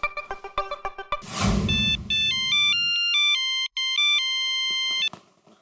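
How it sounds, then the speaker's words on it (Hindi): Phone ringtone playing a bright electronic melody, preceded by a series of short rhythmic tones, then sustained loud ringing notes that stop abruptly near the end. "मैं अभी फोन करता हूँ, पहले हाथी भाई को फोन कर लेता हूँ।"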